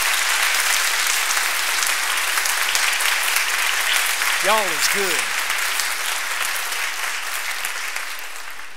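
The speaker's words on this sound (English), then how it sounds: "Would you give them a round of applause?" A church congregation applauds the instrumentalists with steady, full clapping throughout, while a voice briefly speaks midway over the applause, which slowly thins toward the end.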